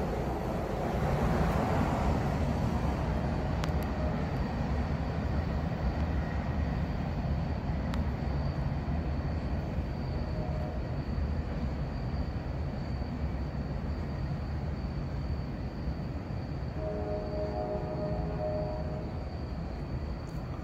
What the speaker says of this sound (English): we must have another train coming through here